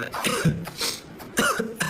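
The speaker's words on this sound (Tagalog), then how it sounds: "Naubo tuloy ako." A person coughs several times in quick bursts, close and fairly loud, with a throat-clearing quality between the coughs.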